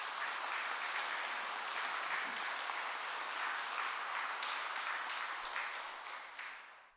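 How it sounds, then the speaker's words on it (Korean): Sustained applause from a church congregation at Sunday Mass welcoming a deacon, a dense even wash of many hands clapping that holds steady for most of the stretch and then fades toward the end. "환영의 박수 한번 보내주시겠어요?"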